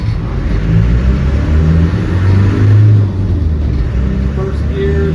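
A 1996 Land Rover Defender 110 with a 300Tdi diesel engine pulls away, a loud close low rumble that swells as it accelerates, heard from inside the cabin with the windows down and a voice talking over it.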